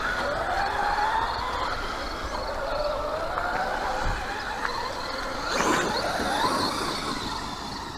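Traxxas Rustler and Traxxas Maxx 4x4 VXL RC cars drive outdoors, with a steady, continuous electric motor whine that rises and falls as they move, plus one brief sharper sweep, heard at moderate distance.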